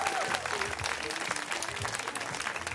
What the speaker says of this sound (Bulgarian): Аплодисменти за диджеите.